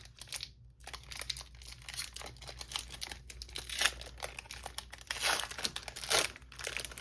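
A foil trading card booster pack wrapper for Illumineer's Trove, Reign of Jafar, crinkles and tears in close, quiet bursts of rustling and ripping, opened carefully by hand.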